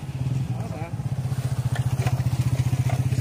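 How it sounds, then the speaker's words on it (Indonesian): Motorcycles ride along a road during a police crackdown on illegal street racing, a close, rhythmically pulsing engine drone that steadily throbs and builds, with people talking over it. "Motor-motor lawan arah dia."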